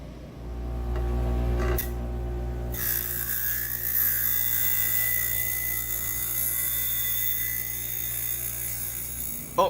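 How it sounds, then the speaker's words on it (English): A power drill whines steadily and loudly for several seconds after a brief start, drilling out bolt holes on a Kawasaki KZ650 motorcycle, with no one speaking. "I'm going to have to drill these holes out a little bit"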